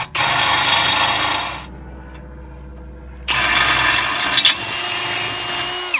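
Power drill running a new bit through metal on a rear spherical bushing kit install for an 88-95 Honda Civic or 89-01 Acura Integra, two steady close whining bursts separated by a pause of near silence.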